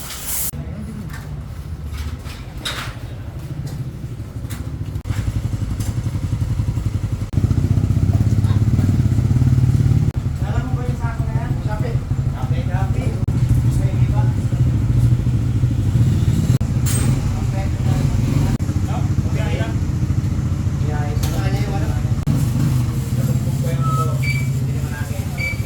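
A Suzuki Raider 150 Fi motorcycle, freshly serviced with a new chain set and an oil change, idles and revs steadily and loudly up close for a long stretch, with someone talking over the engine.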